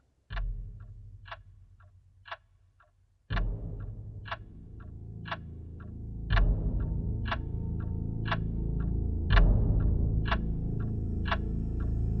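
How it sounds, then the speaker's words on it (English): A clock ticks steadily in a musical recording, starting very quietly and fading in, its regular sharp ticks continuing as a low droning backdrop swells underneath. "It starts very quietly with a clock ticking"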